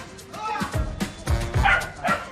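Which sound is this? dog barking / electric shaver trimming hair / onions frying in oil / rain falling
dog barking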